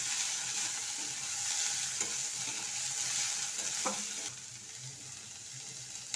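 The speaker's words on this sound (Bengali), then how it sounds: "তারপর ফোড়নের সঙ্গে শাকটাকে খুব ভালোভাবে মিশিয়ে নিচ্ছি" Radish greens are stirred into hot tempering in a pan, with a steady bright sizzle and a few sharper scraping strokes near the middle.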